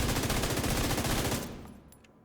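Rapid automatic fire from an MG5 machine gun in a video game, a dense rattling burst that runs steadily for over a second and then cuts off, leaving a fading tail.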